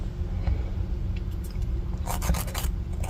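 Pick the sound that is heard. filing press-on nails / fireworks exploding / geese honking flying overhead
filing press-on nails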